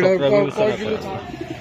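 Pigeons of a full down-feathered breed coo at a dealer's pen, a few soft rounded calls near the start that fade under steady talking close by.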